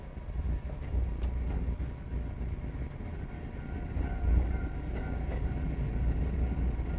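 A Kotoden (Takamatsu-Kotohira Electric Railroad) electric train runs along its tracks, heard from onboard as a steady low rumble with faint rhythmic rail clicks throughout.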